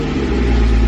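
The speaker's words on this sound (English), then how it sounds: "Oh yeah, look at that, starts right up." A Porsche 981 Boxster GTS engine runs steadily right after starting, a loud, close, continuous mechanical hum throughout the brief moment, with no voices.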